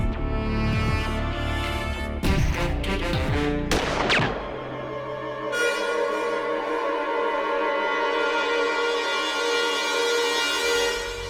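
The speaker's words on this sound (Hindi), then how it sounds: "वरुण ये ले और गोली चलाओ" Several sharp, loud bangs in quick succession, like gunshots, followed by a sustained ringing tone that fades slowly.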